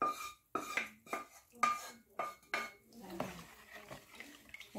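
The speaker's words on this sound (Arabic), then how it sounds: "هنا نحرك ونخلي القارص هنا كيما راكم تشوفو" A spoon clatters against a metal pot while stirring a boiled lemon syrup drink, sharp scraping knocks in an uneven rhythm, close and fairly quiet, fading into softer stirring toward the end.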